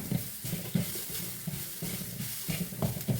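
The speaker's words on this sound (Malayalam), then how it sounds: "ഉപ്പുപൊടി ഇട്ടു നന്നായിട്ട് ഇളക്കാം" Salt powder is stirred into a spinach and taro-stem stir-fry in a pan, with a soft steady sizzle and repeated scraping strokes of the spoon in an uneven rhythm at moderate volume.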